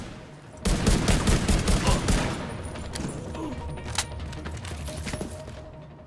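Rapid bursts of automatic gunfire crack out in The Division 2, a dense loud volley that rattles for a couple of seconds and then thins into scattered shots and clatter, with faint voices mixed in.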